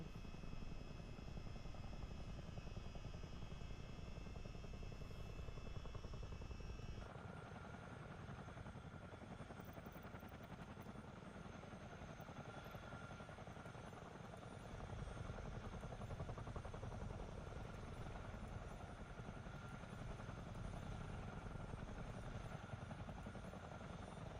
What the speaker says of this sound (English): The engines are working.